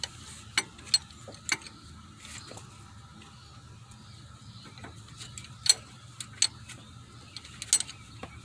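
A ratchet fitted with a 12mm socket clicks in short, sparse bursts, quiet and close, while screws come out during timing belt work on a 2006 Mitsubishi Outlander.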